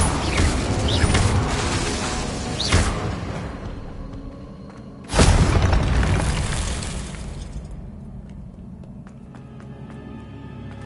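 Incendio and other fire spells blasting in Hogwarts Legacy on PS5: two loud, booming bursts, the second sharp and heavy about halfway through, each fading into a rumbling tail with faint mechanical clicks afterward.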